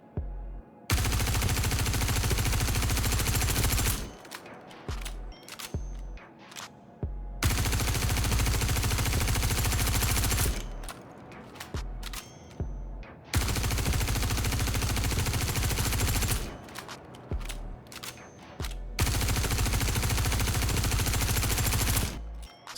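A P4 gun with no attachments fires in Star Citizen, three long continuous automatic bursts of about three to four seconds each, loud and close, separated by short gaps with faint clicks and mechanical sounds.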